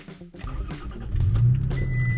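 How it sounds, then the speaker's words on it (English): A 2017 Toyota Tacoma pickup truck engine rumbles low and steady, building slightly louder partway through, with some mechanical clicks and shifting noise around it. "All right, truck is turned on."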